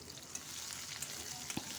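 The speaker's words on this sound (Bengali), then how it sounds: "পেঁয়াজগুলো কিছুটা ভাজা ভাজা করব" Onions and green chilli fry in oil, a faint, steady sizzle with a few light clicks from stirring.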